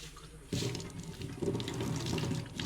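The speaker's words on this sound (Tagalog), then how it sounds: "Ganda yung pressure ng tubig nila dito, malaki." Water gushing under strong pressure from a tap into a campsite washing-area sink, a steady close splashing stream that surges louder after a brief quieter start, with no talking.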